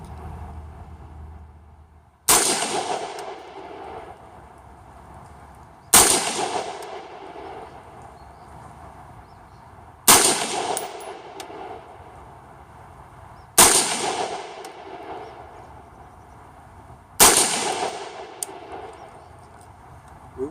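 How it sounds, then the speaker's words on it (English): Five single AR-15 rifle shots with handloaded ammunition at an outdoor range, each a loud, sharp crack with a decaying echo, spaced about four seconds apart, with no talking. "I'm going to take some more shots with the next charge"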